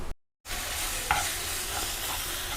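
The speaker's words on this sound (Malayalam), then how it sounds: "നന്നായിട്ടൊന്ന് മിക്സ് ചെയ്ത് കൊടുക്കണം" Steady scraping of a spoon stirring a rice flour mixture in a pan, continuous and close, with a brief gap of silence near the start.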